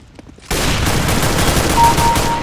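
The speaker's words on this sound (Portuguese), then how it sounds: "Quem tá atirando em mim?" Loud automatic gunfire in a Counter-Strike: Global Offensive online match breaks out suddenly after a quiet moment and rattles on as a dense, continuous burst at close range.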